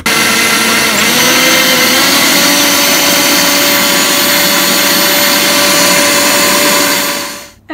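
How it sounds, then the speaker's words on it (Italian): A countertop blender whirs steadily and loudly as it purees pan juices from a roast suckling pig, a constant motor drone that cuts off at the end. "e adesso frulliamo questo buon fondo di cottura"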